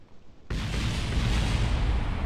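Rocket parts explode in Kerbal Space Program, a sudden loud blast that breaks out of quiet into a sustained, rumbling roar of debris and fire.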